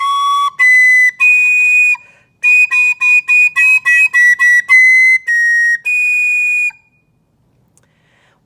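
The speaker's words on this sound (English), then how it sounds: "This would be hot cross buns with me not covering a hole completely, even though my fingers are flat." A soprano recorder plays the tune Hot Cross Buns with one finger hole not fully covered, so the notes come out as shrill, squeaky tones in a clear run of short phrases, loud and close, with no voices.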